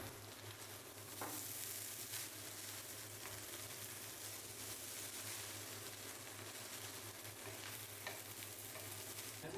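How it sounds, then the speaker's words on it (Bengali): Fried rice with soy sauce and tomato sauce sizzling in a pan while being stirred, a quiet continuous crackle with occasional scraping strokes of a spatula and a low steady hum underneath. "মেশানো হয়ে গেলে দিব টমেটো সস এবার ভালো করে ভেজে নিতে হবে"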